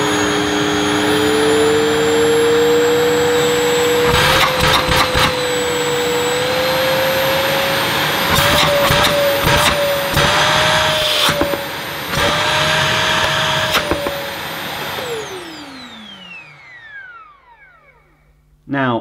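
Hoover Telios cylinder vacuum cleaner with a 700 watt motor switched on, a loud steady whine with a broadband roar, some bumps and handling noises, then the motor spins down to silence.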